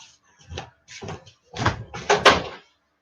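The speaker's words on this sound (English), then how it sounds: "I closed one of the doors" A few close knocks and bumps of a door being handled, ending in a solid thud as it shuts.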